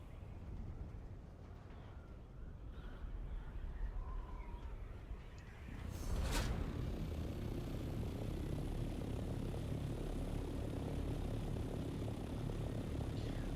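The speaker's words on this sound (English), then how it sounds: "because now we have an Ornithopter, and I don't have to go up and down the stupid ramps anymore" An ornithopter in the video game Dune: Awakening lifts off, a steady droning engine and wing hum that swells sharply partway through after a bright burst, then holds loud and continuous.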